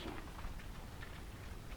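Steady rain falls on a stormy day outside an abandoned chromium mine in Maryland, a dense, constant hiss close by with no distinct drops or thunder standing out.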